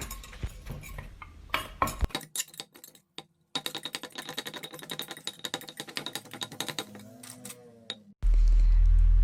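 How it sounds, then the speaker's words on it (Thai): Boiled, chopped mushrooms are pounded in a mortar with quick, irregular clacking strikes in bursts, separated by short pauses and ending in a loud low rumble, with no talking. "หลังจากนั้นเราก็ตำค่ะ ตำให้เข้ากันนะคะ"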